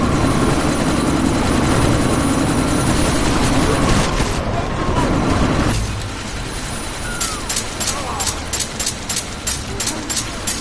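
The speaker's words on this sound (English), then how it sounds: "you need to disable that chopper" Helicopter in the Deus Ex video game, a loud continuous rotor and engine roar that dominates the first half, then drops to a lower rumble with rapid chopping pulses toward the end.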